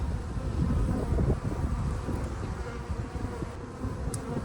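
Honeybees buzz steadily around hive frames during a beekeeping inspection, a close, continuous droning hum with some wind noise on the microphone.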